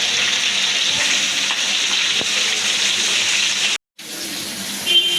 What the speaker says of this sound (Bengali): তেলটা ভালোভাবে গরম হওয়ার পরে আমি দিয়ে দিচ্ছি মাছগুলো এভাবে ভালোভাবে ভেজে নেবো।